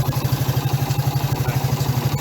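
A Suzuki GN 125 motorcycle idles close by with a steady, rapid thumping beat that holds even and unbroken throughout, with no voices.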